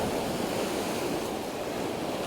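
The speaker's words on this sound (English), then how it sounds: "Our waves seem to be getting a bit bigger, which isn't ideal." Sea waves break on rocks along the UK coast, a steady, loud wash of surf and spray with wind noise, continuous and without distinct individual crashes.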